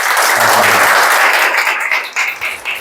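An audience applauds at the end of a talk in a lecture hall, with dense, loud clapping that holds steady and then begins to thin and fade toward the end.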